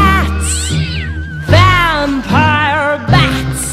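A cat's meow rises and falls through a children's Halloween song sung at a school pumpkin festival, with drawn-out, sliding cries repeating three times over the music.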